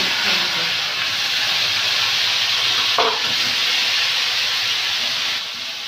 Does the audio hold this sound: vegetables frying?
yes